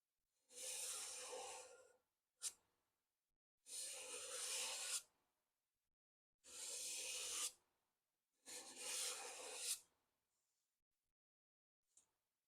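A small steel card scraper with a burred edge drawn over a wooden surface, taking fine shavings in four close rasping strokes, each about a second long, with short quiet gaps between and a faint final scrape.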